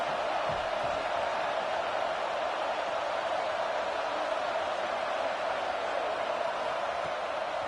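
Broad, steady stadium crowd roar from an NCAA 26 college football video game, a continuous wash of distant cheering and murmur that stays level throughout with no breaks.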